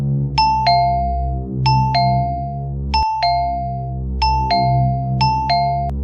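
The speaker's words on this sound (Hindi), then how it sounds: "लेकिन तभी दरवाजे की घंटी बजी।" A two-tone doorbell chimes repeatedly, ding-dong after ding-dong, loud and close over a sustained low musical drone, with no talking, in a horror cartoon.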